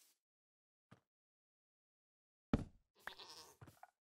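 A goat bleats in Minecraft, a short loud nasal cry near the end after a few soft taps and thuds, with quiet gaps between.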